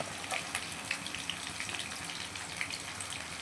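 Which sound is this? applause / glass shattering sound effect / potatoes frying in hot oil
potatoes frying in hot oil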